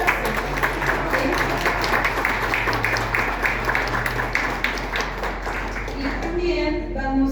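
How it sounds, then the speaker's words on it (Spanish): Audience applause at a book presentation, steady clapping from a crowd lasting several seconds at an even level, thinning slightly near the end. "También démosle un fuerte aplauso."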